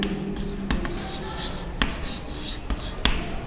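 Chalk or marker writing on a board during a physics lecture on thermodynamics, giving faint scratchy strokes with a few sharp taps against quiet room tone.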